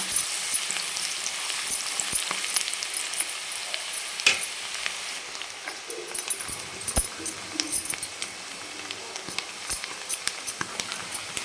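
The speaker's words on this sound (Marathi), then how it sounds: "हा बारीक कट केलेला कांदा आहे तो टाकतो आणि छान ह्याला आता सोनेरी कलरवर आपण याला परतून घेणार आहोत" Finely chopped onion fries in a pan with a steady, close hiss of sizzling oil and occasional scrapes and clicks from stirring, with no voices.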